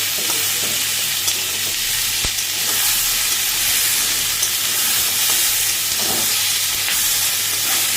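Mukhi kochu (taro) fries loudly in a pan, a dense, steady hiss of sizzling oil with faint stirring clicks throughout.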